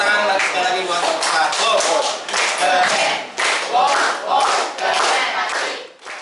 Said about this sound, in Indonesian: Tepuk tangan sekali lagi buat kelompok